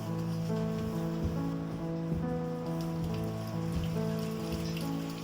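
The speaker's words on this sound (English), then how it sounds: "The rain didn't stop." Steady rain falls through a redwood forest in Redwood National and State Parks, California, a constant soft patter of drops on leaves and ground, even and enveloping, beneath a low sustained tonal hum, with no talking.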